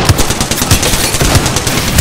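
Rapid, loud automatic gunfire in a shooter video game, steady fast bursts continuing for the whole clip, close and alone.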